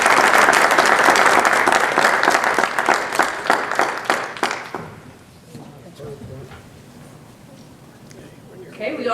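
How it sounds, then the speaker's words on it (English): Audience applause at a school board meeting, loud and dense at first, then thinning into scattered individual claps before voices take over. "So let's give all of them a round of applause."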